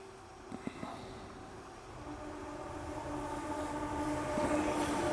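A monorail train passes, rumbling with a whining tone that slowly rises and swells as it draws nearer, with a few faint clicks near the start.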